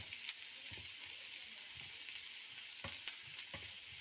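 Onion rice cooks in hot ghee in a pan, giving a steady, close sizzle with a few soft clacks from stirring scattered through it.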